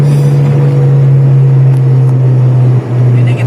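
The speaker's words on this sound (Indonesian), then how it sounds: "Ini kita atas gigi 3 untuk X speed-nya bisa sampai 85." A Toyota Kijang LGX 1997 runs in third gear at speed, its engine holding a steady, loud low drone with a constant hum and a slight dip near the end.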